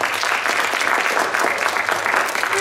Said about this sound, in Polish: tą ciszę na zdjęcia wypełnią Państwo klaski